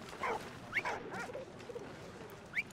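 Dog in the video game Valiant Hearts: The Great War giving a few short whimpers and yips, with brief high cries scattered over a busy background of game noise and music.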